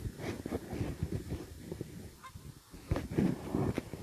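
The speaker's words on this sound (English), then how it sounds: "I'll let you listen to their honks a little bit." Canada geese honk repeatedly overhead in a loose, irregular series, fairly close and loud, with a low rumble of background noise.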